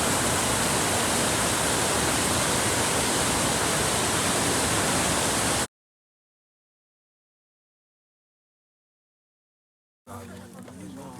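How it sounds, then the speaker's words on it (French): A mountain river during the Corsica ultra trail rushes as a dense, loud, steady roar for about five seconds, then cuts to silence before a brief stretch of quieter outdoor sound. "On va pouvoir passer la rivière."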